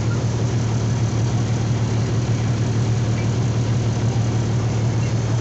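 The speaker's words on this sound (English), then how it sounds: "How long is this truck going?" A truck engine idles steadily through an ice storm, a constant low rumble with a faint mechanical hum, close and unbroken with no voices.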